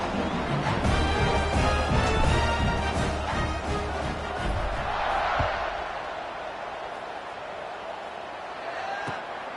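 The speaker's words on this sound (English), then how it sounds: "this crowd is buzzing after that last score" An American football stadium crowd roars loudly after a score, a dense, continuous wash of cheering that fades to a steadier murmur, with a commentator talking over it.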